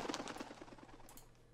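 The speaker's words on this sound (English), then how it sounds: "these birds' wings flapping." A quick burst of fluttering wingbeats, rapid soft flaps that trail off over a second or so.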